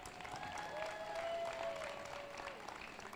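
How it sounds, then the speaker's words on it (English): An outdoor crowd applauds at a charity walk for life, a soft, distant wash of clapping with a faint tonal sound running through it. "let's give her a really big round of applause"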